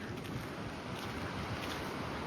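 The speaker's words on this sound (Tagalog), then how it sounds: "Malakas pa rin yung hangin eh." Strong wind gusts roar against the microphone outdoors in Toronto after the first snowfall, a dense, loud buffeting rush with no voices.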